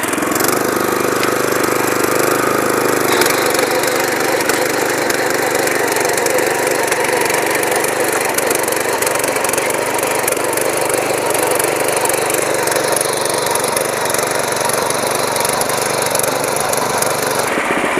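A small power weeder engine roars loudly and steadily at close range for the whole stretch, with a faint rattling clatter running underneath.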